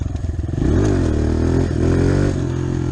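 A motorcycle pulls a wheelie, its engine chugging at idle, then revving hard and holding high, loud and close, with the pitch rising and dipping as the throttle varies.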